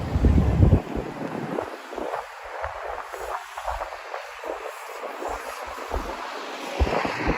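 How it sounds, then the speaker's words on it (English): Steady, low rumbling wind buffets the microphone outdoors on a Manhattan street at night, near 5th Avenue and 34th Street, with a louder gust at the start and again near the end. "It's actually getting a little bit windy tonight here in Manhattan."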